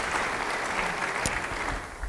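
Church congregation applauding during a sermon, a brief burst of dense, steady clapping from many people at moderate level, with no talk over it.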